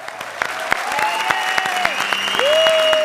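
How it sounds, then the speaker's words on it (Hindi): Applause from a comedy show studio audience, with distinct sharp claps at first that thicken into steady clapping while people talk over it. "तालियां।"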